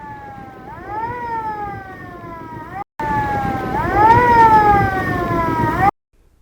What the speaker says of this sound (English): that siren that really woke us up